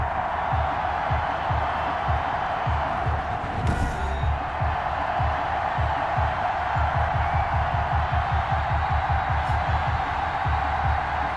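Stadium crowd roaring at FedEx Field in Madden NFL 21, a steady, dense wash of cheering that holds at a constant level throughout, with rhythmic low thumps pulsing underneath.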